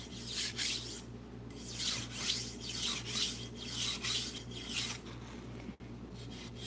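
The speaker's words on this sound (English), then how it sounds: "I don't know what angle I'm sharpening at, I'm just sharpening it" A kitchen knife is drawn repeatedly across a sharpening stone, giving rhythmic raspy strokes roughly every half second over a low steady hum. The scraping is close and fairly quiet, with no talking.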